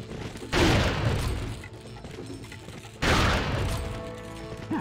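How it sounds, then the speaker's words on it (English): Two loud bursting booms from Resident Evil 4 grenades, probably flashbangs, go off a couple of seconds apart, each one fading into a ringing rumble with no voices over them. "Nice and tasty flashbang."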